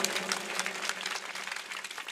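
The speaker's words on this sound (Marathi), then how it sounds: "ज्यांनी टाळ्या वाजवल्या" An audience applauding at a humorous kirtan, a dense steady patter of many hands clapping at moderate distance, continuous throughout with no voices over it.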